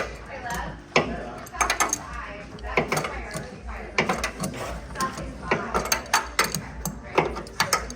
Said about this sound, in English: These are one of those closed-end ratchets.